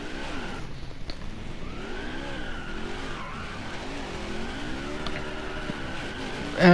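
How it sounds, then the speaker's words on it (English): Video-game race cars doing burnouts after the Daytona 500, engines revving in sweeping pitch bends with tire squeal and skidding, continuous and fairly close, no voices. "As we do the burnouts"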